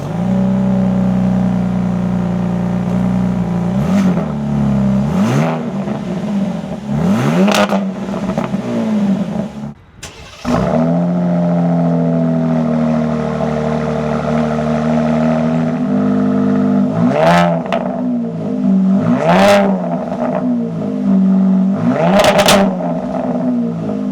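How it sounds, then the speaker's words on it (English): A Ram RHO pickup truck revs repeatedly, first with the stock exhaust and then with an AWE exhaust, as sharp throttle blips rise over a steady, loud idle with a brief pause midway between the two trucks. "now I'm gonna give you guys a quick sound clip of the stock exhaust on the blue truck versus the AWE exhaust on the white"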